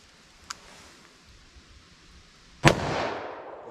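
A .357 Magnum revolver with a 2-inch barrel fires one loud, sharp shot at an indoor ballistic test, and a broad roar trails off behind it. A fainter click comes earlier.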